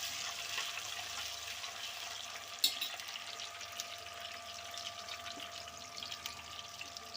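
Ginger garlic paste, green chillies, onion, cumin and garlic fry in a pan and get stirred, a soft, steady sizzle with one brief utensil clink partway through.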